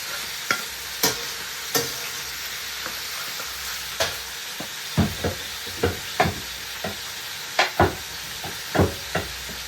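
Onions frying in a pot for oxtail soup, a constant close sizzle punctuated by regular scraping stirs of a utensil against the pot, with no voices.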